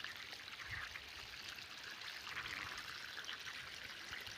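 Water trickles weakly from an irrigation pipe in a sugarcane field because the pressure is low, a faint, steady hissing dribble that continues evenly and sounds somewhat distant, with no voices.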